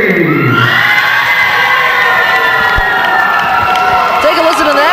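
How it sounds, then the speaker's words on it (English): A wrestling crowd at an independent show cheers and whoops loudly and steadily for a wrestler's ring entrance, a dense roar of voices with shouts rising throughout. "Brian Anthony's cheering section appears to have arrived."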